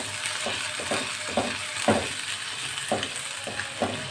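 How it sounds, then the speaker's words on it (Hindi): Spices with coriander, turmeric and salt frying in a pan for green chilli salan, giving a continuous sizzle broken by several scraping stirs of a spoon, close and steady with no speech. "इसको हम अच्छी तरीके से भूनेंगे"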